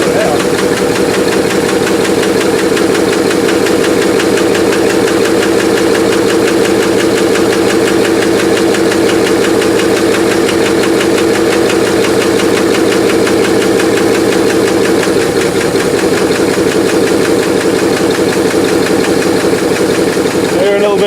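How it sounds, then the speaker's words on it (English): An old Rolls-Royce engine, recently revived after sitting dead for a long time, runs loud and steady at close range, with a slight rhythmic lifter tick in its even idle. "They're a little bit of a lifter tick, but given that it hasn't run in so long, I'm okay with that."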